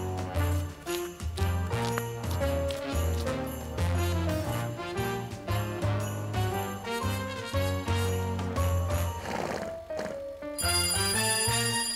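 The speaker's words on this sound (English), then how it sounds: "it's your phone again." A phone rings in a children's Christmas cartoon, sounding as a steady, bright, repeating electronic ring tune that plays loud and close for several seconds with no speech over it.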